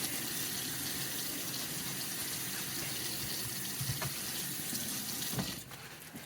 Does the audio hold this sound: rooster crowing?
no